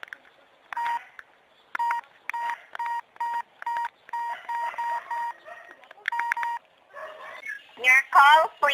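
A telephone is dialed to call the police in a radio drama: a rapid series of bright touch-tone beeps in short bursts, close and clear, ending in a brief voice at the end.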